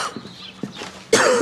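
A smoker coughing nearby: a few harsh, short coughs, followed by a sudden louder burst of throat noise at the end.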